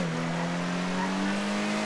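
A turbocharged Zion Classic car in GTA 5 Online holds a steady, loud engine drone with a whining turbo tone, continuous and close, with no voices.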